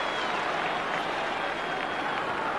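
A steady roar from a large stadium crowd at a 1990 Australian football match between Hawthorn and Melbourne, continuous cheering and clapping, loud and unbroken, with faint commentary voice beneath.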